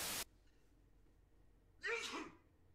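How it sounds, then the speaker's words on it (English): A person sneezes once, a sharp close burst near the end after a brief noise at the start, with quiet in between. "I sneezed."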